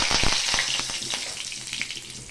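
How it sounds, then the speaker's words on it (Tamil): Mustard seeds spluttering and popping in hot oil for a dried anchovy (nethili karuvadu) thokku, with a steady frying sizzle broken by sharp, irregular crackles close by. "கடுகு பொரியட்டும்"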